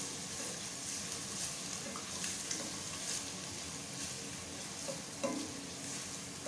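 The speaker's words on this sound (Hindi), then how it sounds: "लहसुन अदरक अच्छी तरह से फ्राई हो जाए तो साथ ही इसमें हरी मिर्चें डाल दें कटी हुई।" Garlic, ginger and chopped green chillies fry in a pan for chana dal, giving a soft continuous sizzle with occasional spoon stirs and scrapes, fairly quiet and with no talking.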